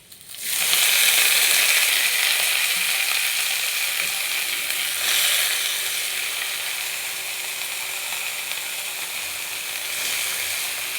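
Noteh greens (amaranth leaves) sizzle in hot oil in a pan, a steady loud frying hiss with faint stirring scrapes, swelling slightly near the start and around five seconds, with no talking.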